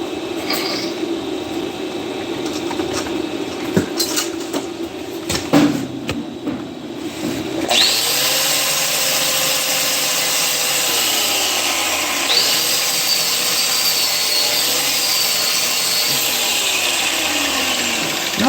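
An electric grinder in a welding practice setting starts up and runs in a loud, steady, unbroken whine for most of the stretch, after some earlier knocking and handling noises.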